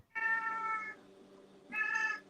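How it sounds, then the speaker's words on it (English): A cat yells: two loud, close, drawn-out meows with a short pause between them, heard on their own. "the cat yelled and it distracted me"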